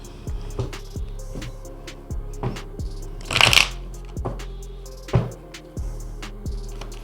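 Tarot cards being shuffled in a steady run of close, crisp riffles and taps with one louder burst of flicking near the middle, and no voice over them.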